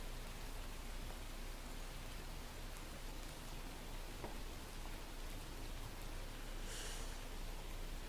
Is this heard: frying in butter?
no